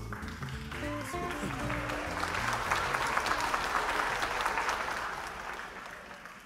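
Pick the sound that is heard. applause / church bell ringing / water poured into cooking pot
applause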